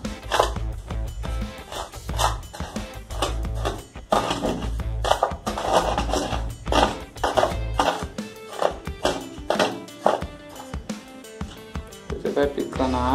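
Cement and sand mortar being mixed by hand for making balusters, with repeated close scraping and chopping strokes in a steady, uneven rhythm and a voice heard at times.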